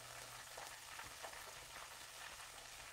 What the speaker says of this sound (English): Go ahead and drop that chicken in.